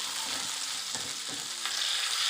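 Tomatoes frying in a pan for an Indomie noodle dish, a steady bright sizzle with a few soft scraping stirs of the spoon, close and continuous with no talking.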